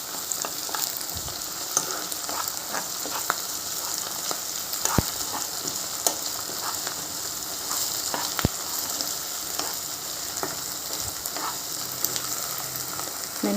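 Freshly made ginger-onion paste frying in a pan gives a soft, continuous sizzle with occasional faint stirring taps and scrapes, moderately quiet and unbroken throughout.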